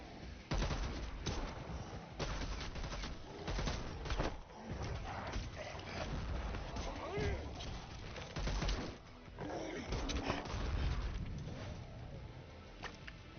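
Rapid gunfire crackles in the zombie video game Dead Island, loud dense bursts and rattling volleys running nearly continuously, with talk occasionally mixed in.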